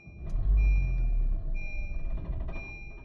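A Honda Vezel with freshly changed injectors cranks and catches with a short low rumble, while steady electronic chime tones sound alongside. The engine settles into a quieter running hum.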